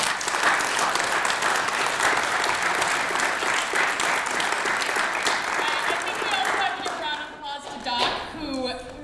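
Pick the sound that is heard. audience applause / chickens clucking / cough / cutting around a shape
audience applause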